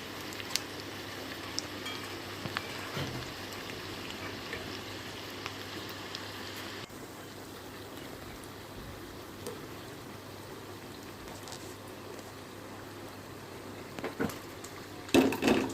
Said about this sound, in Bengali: এরকম করেই কিন্তু আমি বাকি পকোড়াগুলোও ভেজে নেব